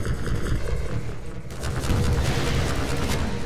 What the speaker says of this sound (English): let me shoot you in the face